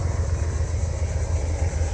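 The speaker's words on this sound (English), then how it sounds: "we've got a helicopter flying overhead" A steady low engine rumble from a helicopter passing overhead at a distance drones throughout, with no voices.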